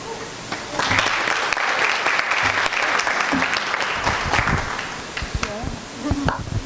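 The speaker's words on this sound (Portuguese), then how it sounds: "eu quero um super aplauso para a Michele, CEO da Base" Applause from an audience at an innovation event greets a startup CEO taking the stage, a dense steady clapping that swells for several seconds, then fades under voices.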